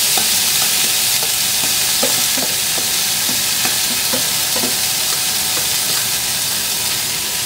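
Marinated chicken pastil sizzles loudly in a hot dry pan with a dense, constant hiss, while a spatula scrapes and taps it in a steady rhythm up close, with no voices.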